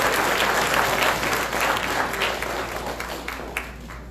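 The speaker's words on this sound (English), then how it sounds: "could you give a thunderous round of applause to none other than the great Commissioner," Loud, thunderous applause from a live-show audience in Lauderhill greets a commissioner, thick steady clapping that tapers slightly toward the end with a few sharper individual claps.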